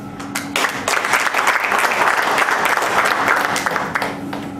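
An audience breaks into steady, dense applause that swells quickly and holds loud for several seconds before easing slightly, with no voices over it.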